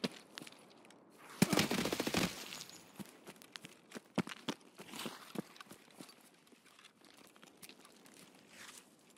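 Bursts of MPX submachine gun fire in Escape From Tarkov, a loud rapid burst followed by scattered sharper single shots and short volleys, with lulls between them.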